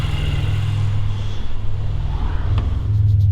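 A Pontiac Grand Prix engine idles steadily with a freshly installed radiator, a constant low hum holding close and even throughout, with no talk over it.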